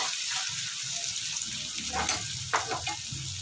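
Ground garlic ginger paste frying in a hot pan for a dahi bhindi masala, a close, steady sizzle with soft stirring scrapes, heard alone.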